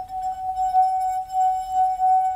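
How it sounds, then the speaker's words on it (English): A rubbed wine glass rings out one pure, sustained singing tone that holds steady for the whole stretch, close and clear, with faint overtones and no talking. "Played music on the wine glass."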